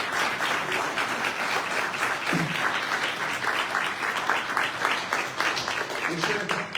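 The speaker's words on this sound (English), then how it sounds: "Everybody give it a round of applause for CJ Graham." Audience applause for actor CJ Graham at a sci-fi horror fest Q&A, a steady dense crowd clapping throughout, with faint voices mixed underneath.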